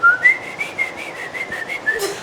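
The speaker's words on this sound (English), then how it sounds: "whistling like a straight whistle" A person whistles a short tune with a clear, pure tone, a series of rhythmic repeated notes sounding close and alone, with no talking.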